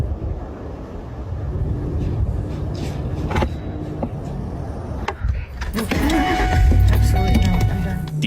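A car starts moving and drives off on a night camping trip. Engine and road noise build steadily to a louder rumble near the end, with some rattles and thumps earlier and a voice narrating over it.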